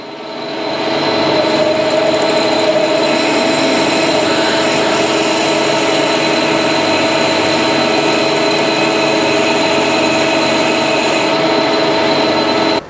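A 6.8mm drill bores a tap hole for an M8 thread in a part for a 7 1/4 inch steam locomotive, making a loud, steady machine whir that ramps up and holds for several seconds, with no talking.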